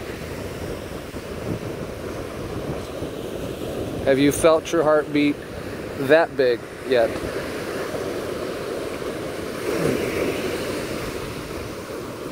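Ocean waves break on the shore under gusty wind, making a steady, close, rushing surf roar throughout, with buffeting wind noise on the microphone; someone speaks briefly over it partway through.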